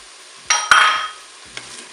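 Peas and sweetcorn tip into rice already frying in a Cookeo multicooker, giving a close burst of loud sizzling with a couple of sharp clinks, then a fading hiss and one more brief clink.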